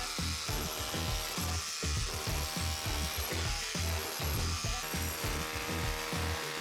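Hand tool work on wood during a DIY underfloor heating job, close and continuous, with repeated scraping and knocking strokes that fit chiseling, all of it alone with no talk.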